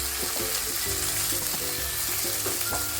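Chopped tomato dropped into frying onions in a pan, a loud continuous sizzle with bubbling crackle and a few stirring scrapes.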